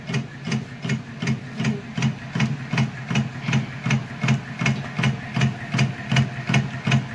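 A batasa sugar-candy making machine runs on its belt drive, giving a steady mechanical churn with a regular thumping beat about twice a second, loud and continuous with no talking.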